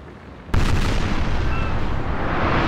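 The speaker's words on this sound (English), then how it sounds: "Big chain shots from port" A naval cannon fires chain shot in a Napoleon Total War sea battle, with a sudden loud boom followed by a sustained roaring rumble of gunfire that stays heavy to the end.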